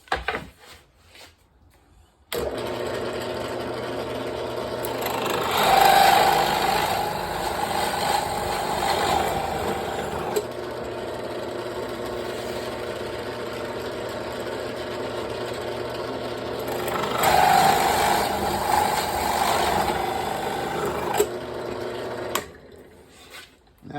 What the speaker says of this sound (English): So we'll drill the other 2.